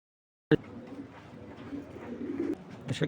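A pair of chalk pigeons coos softly after a sharp opening knock, giving low, rolling murmurs that swell toward the end, close and fairly quiet.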